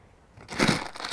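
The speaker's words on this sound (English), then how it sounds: "you're scraping rocks out of the bottom of a bowl" Rocks are scraped out of the bottom of a bowl in a short, close crunching, gritty scrape that swells after a quiet start.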